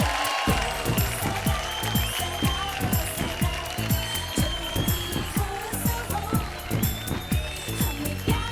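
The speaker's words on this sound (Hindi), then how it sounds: "तो जोरदार तालियां ईशा और आकांक्षा के लिए।" A studio audience on an Indian television show claps in a steady, rhythmic beat, loud and continuous over background music.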